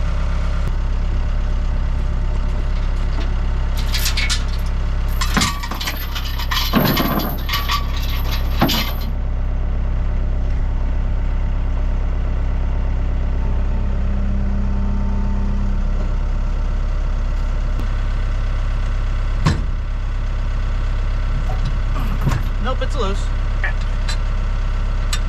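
A tractor engine idles steadily while moving a B&W RV hitch lifting device, giving a constant low drone throughout. Several sharp metallic clanks and knocks from the hitch sound early on, with another brief clank later.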